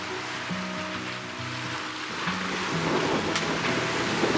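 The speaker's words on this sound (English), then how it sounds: "look at this waves out here" Ocean surf in strong wind and current roars and washes steadily, heard from a sailboat, while a low tonal hum drones in bursts underneath, the wave noise growing louder toward the end.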